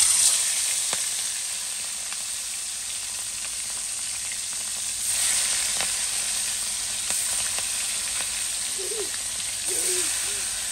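Prawns marinated with salt and a little turmeric sizzle and fry steadily in a pan. The hiss swells partway through, with faint stirring clicks and a brief high-pitched squeak near the end.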